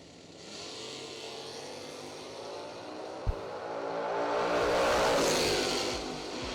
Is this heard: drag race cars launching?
yes